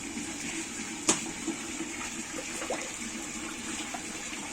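Paddy seeds are stirred by hand in water for soaking, giving a soft continuous watery wash with one sharp splash early on and faint trickles after.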